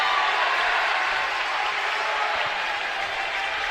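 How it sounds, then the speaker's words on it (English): At a boys basketball game against Franklin, the crowd in the gym roars and applauds in a loud, steady wash of cheering that fades slightly toward the end. "And the crowd going crazy again."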